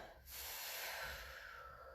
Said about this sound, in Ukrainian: Зроблю глибокий вдих